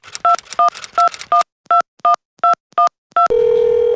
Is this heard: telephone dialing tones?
yes